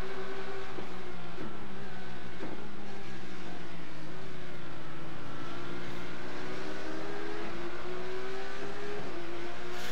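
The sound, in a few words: Porsche GT3 race cars in iRacing video game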